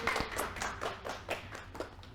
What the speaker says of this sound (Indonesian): Berikan tepuk tangan kepada kelompok A.